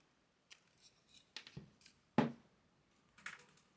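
Small miter shears slicing trim for 1:12 dollhouse miniatures, giving a few sharp, close snips and clicks spaced irregularly across a quiet background.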